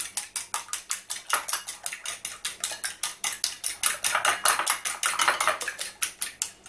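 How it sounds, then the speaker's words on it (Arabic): Broccoli for a gratin is mixed in a dish with a utensil, a fast, even run of light clicking and tapping strokes, about four per second, close and continuous with no voices. "الان نخلط الحبابيط تاعنا،"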